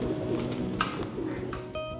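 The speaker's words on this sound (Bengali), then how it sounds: "পায়রা দুটি" Two pigeons of an old bloodline, a male and a female, coo softly and steadily at close range over a low background hum, with no talk.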